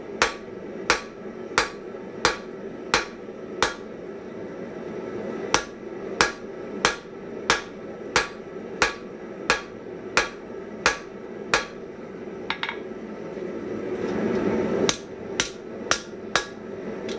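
A newly made blacksmith's hammer strikes hot steel while drawing out a taper, ringing in sharp, evenly spaced blows with short pauses between runs, close and clear over a quiet forge background.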